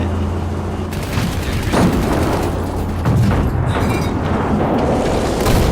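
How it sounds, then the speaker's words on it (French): Artillery barrages in a WWII battle game set in France 1940, with deep booms and rumbling blasts rolling through a continuous loud din, several heavy impacts layered over one another. "Ils ont balancé de l'artillerie encore"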